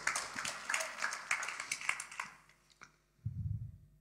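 Church congregation applauding after a sermon, a quiet, thin patter of claps that tapers off after a few seconds, followed by a short low rumble.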